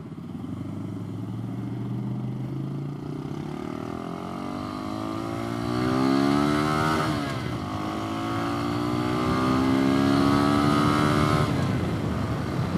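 A mini moto motorcycle accelerates through its gears while riding, engine pitch climbing steadily with each shift, loud and close with no talk.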